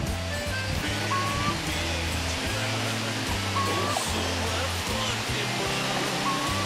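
Cachoeira do Lafayete waterfall in Minas Gerais, Brazil, a constant dense rush of falling water filling the scene at close range, with a low rhythmic hum running underneath.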